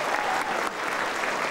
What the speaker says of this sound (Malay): Tepukan untuk Cik Samsi